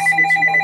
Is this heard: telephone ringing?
yes